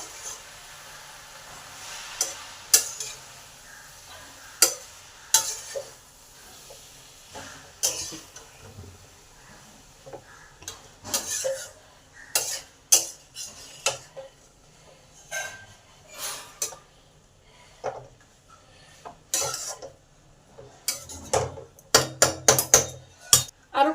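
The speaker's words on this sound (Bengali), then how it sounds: "লাউ শাকটা ভালো করে ধোয়া আছে সেটা দিয়ে দিলাম তার সাথে ডাটাগুলো সেদ্ধ করা আছে সেটাও দিয়ে দিলাম এবার সব একসঙ্গে মিশিয়ে নেবো" Bottle gourd greens and boiled stalks stirred together in a pan, giving irregular scraping and clinking hits of a utensil against the metal, some in quick clusters, fairly close and alone without talk.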